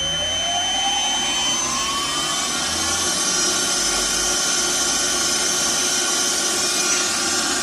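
A milling machine spindle winds up from a slow crawl toward 2000 RPM, a steady whirring drone with rising whine tones, fairly loud and continuous throughout with no talk.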